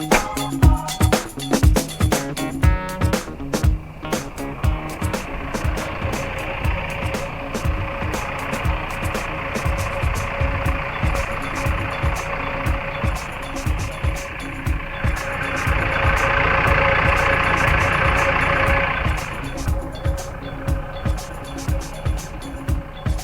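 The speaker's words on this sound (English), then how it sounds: "then it's just a matter of starting the vehicle" A vehicle engine in Antarctica cranks and catches, then settles into a steady close idle with a brief louder rev partway through, alongside repeated beeping.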